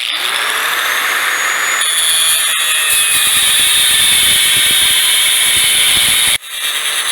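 A spinning blade tool, a disposal-style cutter, cuts threads off plugs with a loud, continuous high-pitched whine and grinding squeal, steady up close and briefly dipping near the end.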